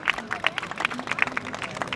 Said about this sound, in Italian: quando volete, l'applauso è spontaneo